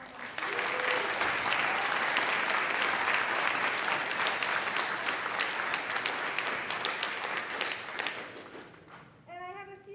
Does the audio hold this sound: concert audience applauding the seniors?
yes